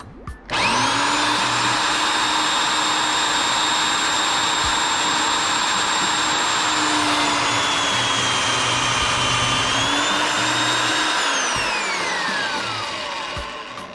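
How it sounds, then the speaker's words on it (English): A drill press bores a hole through a gasket for a Ford Flathead 8BA fuel pump block-off plate, its motor whining loudly and steadily for about twelve seconds before spinning down, with no talk. "Or I could use a better drill press."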